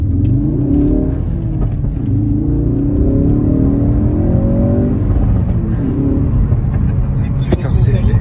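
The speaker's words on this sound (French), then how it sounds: "on va prendre tout droit pour entendre un peu ce petit moteur" A car engine revs and accelerates loudly close by, pitch climbing through the gears, with a voice speaking over it.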